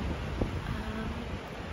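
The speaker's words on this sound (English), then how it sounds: "Kind of windy today, and apparently it's not usually this windy" Wind blowing hard on a summer day in the Cascades, a constant rushing roar buffeting the microphone through the short stretch, with no voices.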